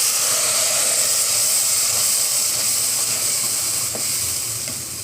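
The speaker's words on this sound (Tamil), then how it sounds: "பட்டை, கிராம்பு, ஏலக்காய் போட்டுருங்க. பொரிஞ்சதும் அரைச்சி வச்சுருக்க புதினாவை சேர்க்கணும்." Cinnamon, clove and cardamom crackle in hot ghee as a loud, steady, close hiss of frying that tapers slightly near the end, with no talking.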